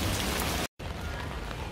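Rain falls steadily in the Ten-Mile Gallery canyon at Zhangjiajie, a loud, dense hiss of drops on surfaces that cuts out briefly for a moment and then resumes just as strong.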